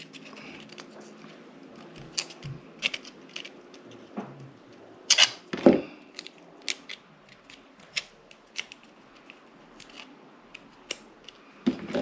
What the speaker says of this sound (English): We need 3 little notches cut in the middle.